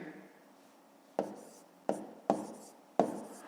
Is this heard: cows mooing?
no